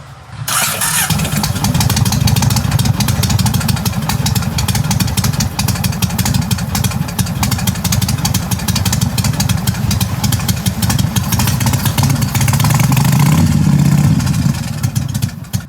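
A motorcycle engine starts up close by and runs loudly and steadily for about fifteen seconds, with a slight swell in revs near the end before it cuts off.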